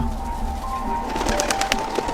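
Pigeons coo softly and low nearby, with a few flutter-like noisy bursts toward the end and no talking.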